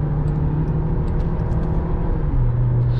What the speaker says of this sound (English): You can pop into the sport mode for the gearbox, go down a few gears of this ZF sourced gearbox here.